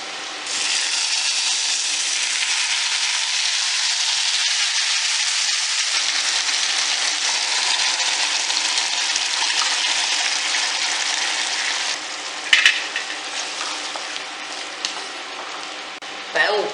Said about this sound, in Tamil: இப்போ அதை புளி தண்ணியை விட்டுடலாம்.